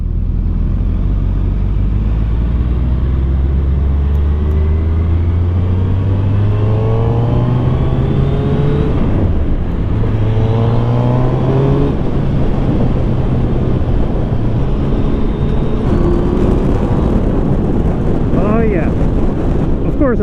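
A 2025 Suzuki V-Strom motorcycle accelerating onto a highway, its engine climbing through several gears with rising revs and shifts, loud and close under heavy wind rush.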